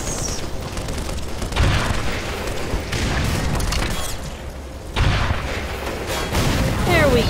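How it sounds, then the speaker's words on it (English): Gunfire and explosions from the video game Black Mesa, with repeated loud booms and bursts of shooting that surge in waves over a dense, continuous battle din. "Who's shooting at me now?"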